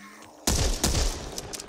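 Sharp revolver gunshots in the video game Back 4 Blood fire in quick succession, several loud cracks with short echoes trailing after.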